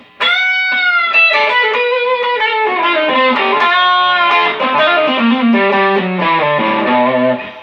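An electric guitar strung with D'Addario Chrome flat wound strings plays a distorted riff of sustained, bending notes, loud and up close with no talking, the tone thick and saturated throughout.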